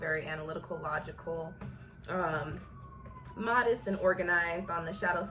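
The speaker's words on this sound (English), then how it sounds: "There's sirens." Sirens wail faintly in the distance outdoors, a wavering tone rising and falling beneath someone talking steadily in the foreground.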